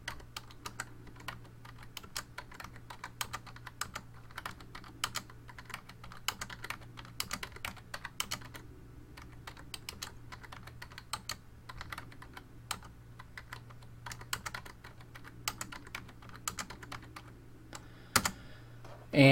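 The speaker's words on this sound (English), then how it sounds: "we're going to take those data points and we're going to type them in" Data being entered on a computer keyboard, a steady stream of light, quick key clicks with irregular rhythm over a low constant hum, close and fairly quiet, with no speech.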